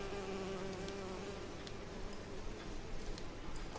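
Insect buzzing in the L.A. Noire video game, a faint continuous fly-like drone with light ticking over a quiet background.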